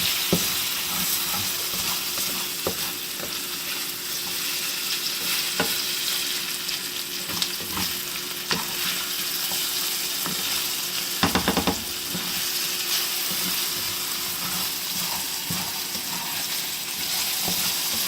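Thin home-style hash browns frying in a pan: a steady, close hiss of sizzling oil with occasional stirring or spatula clicks, no voices.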